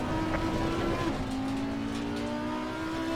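GT3 race cars such as a Lexus, BMW and Audi in Assetto Corsa Competizione give a steady, loud engine drone whose pitch dips and shifts as a car coasts into a corner, with no talk over it.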